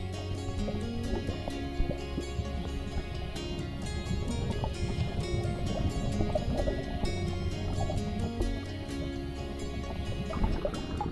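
Water splashing and sloshing as someone takes a dip in a crystal-clear river beside a campsite, a steady, close, continuous wash of splashes with small irregular bursts throughout.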